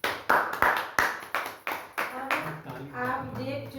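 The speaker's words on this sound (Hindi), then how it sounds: "तालियां।" A crowd at a large campaign celebration event claps in about ten sharp, rhythmic beats that soften into looser, scattered applause, fairly close.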